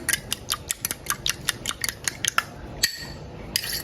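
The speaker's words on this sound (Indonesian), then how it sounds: "Dan 2 butir telur, ini dikocok lepas seperti ini." Two eggs whisked loosely in a bowl for a sweet condensed-milk Lebaran cake batter, a quick run of light, even clicking strokes of the whisk against the bowl, close up, briefly pausing before resuming, with no voices.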